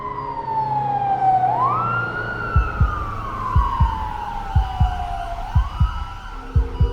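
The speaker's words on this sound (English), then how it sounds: "an ambulance is called." Wailing ambulance siren rising and falling in long sweeps, loud and close, with a rhythmic low thumping like a heartbeat pulsing beneath it.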